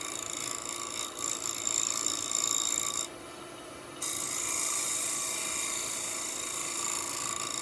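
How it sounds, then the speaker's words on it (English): A small half-inch scraper works steadily around a very tight bend, giving a continuous close, bright rasping scrape with a brief drop in level partway through and no talking. "Using a smaller scraper to get around that very tight bend"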